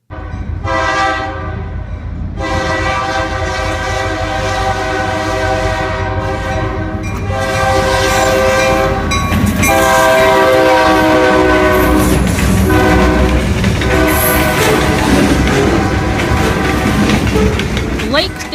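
Lake State Railway train in northern Michigan passing loudly, with a long sustained multi-tone horn blast over steady rumbling and rail noise throughout.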